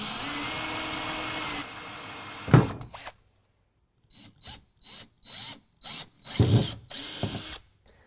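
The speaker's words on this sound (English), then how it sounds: "We're going to get a nice centered pilot hole drilled and follow that up with 11/16." A power drill bores a centered pilot hole for a DECKED Core Trax 1000 tie down track, a steady whine for a few seconds, then a sharp burst and a string of short, stop-start drilling pulses close by.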